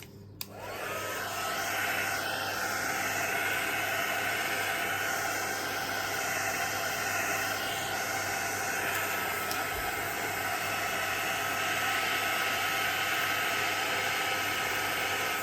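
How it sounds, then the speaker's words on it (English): Heat gun used for embossing a stamped design on plastic switches on with a click, then blows a steady, even hissing roar that runs unbroken at close range. "Remember to make sure to keep that gun moving, that heat gun moving all the time"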